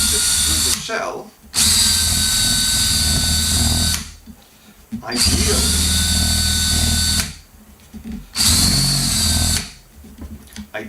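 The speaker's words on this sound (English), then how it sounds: "as you're drilling down, you feel with a finger on the inside of the shell" Power drill with a brad point bit boring through a drum shell, running in three long loud whining bursts separated by short pauses, close up with no talking.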